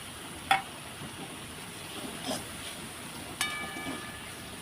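Tomatoes hiss steadily in hot oil with asafoetida for matar paneer, a faint even frying sizzle punctuated by three soft clinks of a utensil against the pan.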